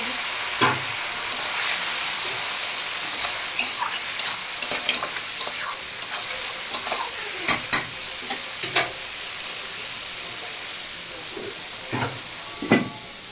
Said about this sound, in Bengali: এখানে মাটনটা কষা হচ্ছে।